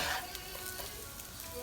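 Sausage fries in a pan with no added oil on a stove at medium heat, giving a steady, close sizzle with faint crackles and one louder pop near the end.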